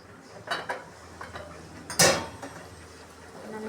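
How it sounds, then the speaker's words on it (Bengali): Metal clinks and clatter as a lid goes onto a cooking pot of greens, a few light knocks followed by one sharper clang, close and fairly quiet. "আমি একটু ঢাকা দিয়ে দিব।"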